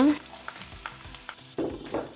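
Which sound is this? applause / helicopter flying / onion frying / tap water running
onion frying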